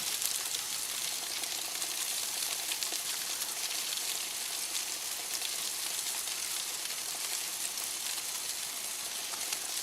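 Food sizzles steadily on a grill at an off-grid campsite, a dense, even hiss running unbroken throughout at close range with no voices.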